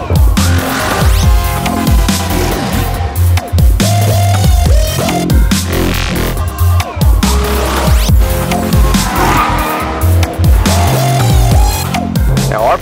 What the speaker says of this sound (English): the first thing you're going to notice is that deep American V8 muscle car sound